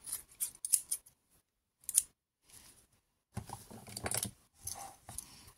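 Scissors cut a gauze compress in half for a scrapbooking project: a few quiet, crisp snips come first, then a longer burst of closer cutting strokes, with no voices.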